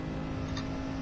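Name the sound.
car engine with turbo accelerating in video game Gran Turismo Sport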